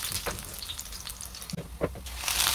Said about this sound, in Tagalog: At kung mainit na yung mantika, lagay yung bawang hanggang sa mag-aromatic flavor.